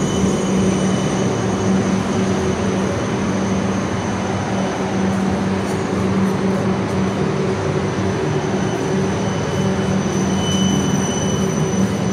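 Steady rumble of trams rolling along St Kilda Road, Melbourne, with a continuous low hum and rattle and occasional faint high squeals, no talking.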